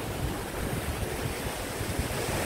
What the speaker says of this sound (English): Here you cross a waterfall.